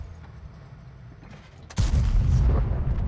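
A heavy tank cannon in World of Tanks fires at an E4 tank, a single loud deep boom that cuts in sharply after quiet engine rumble and rolls on as a sustained low blast.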